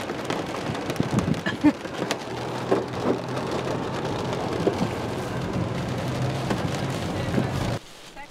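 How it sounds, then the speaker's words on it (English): Heavy rain pouring steadily in Dallas, a dense, constant hiss with scattered splatters and a faint low rumble, ending in a sudden drop near the end. "And it's pouring rain."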